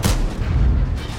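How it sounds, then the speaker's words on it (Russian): A tank cannon fires in World of Tanks, a single heavy boom with a long rumbling low tail that fills the moment, followed by a second fainter report near the end. "Тороплюсь и выстрел делаю мимо."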